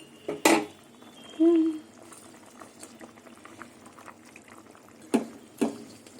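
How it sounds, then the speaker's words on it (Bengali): Fish curry broth bubbling in a pot, faint and intermittent, with a few sharp clinks of utensils against the pot and some muffled handling noise. "এবার ঢেকে দেবো ঝোল ফুটে গেছে এবার আমি মাছগুলো দিয়ে দেবো"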